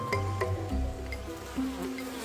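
Bees and other insects buzzing around butterfly bait in Colombian wilderness: faint, steady drone with a few short buzzing passes close by, no talk.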